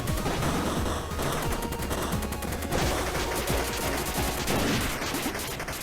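SMG fire in the video game Heritage A Dragon's Tale, loud, dense rapid bursts rattling almost continuously, with no talk.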